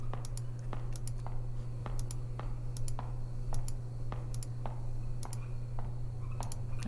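Sharp, regular clicks of a computer mouse during play of the video game Detention, roughly two per second over a steady low electrical hum, close and fairly quiet.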